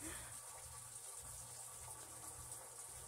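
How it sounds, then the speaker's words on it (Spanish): A washing machine rinsing clothes runs nearby with a constant watery rush and low mechanical hum, steady and fairly quiet throughout. "estoy al ladito de la máquina de lavar ropas, sí, y está justo enjuagando las ropas"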